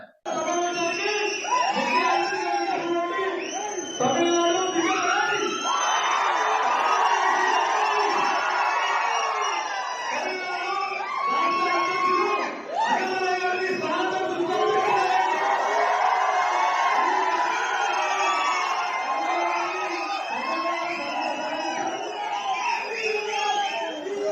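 A large crowd at a political meeting roars with cheers, shouts and whistles, a loud sustained swell that rises and dips but never stops, with voices calling out across it.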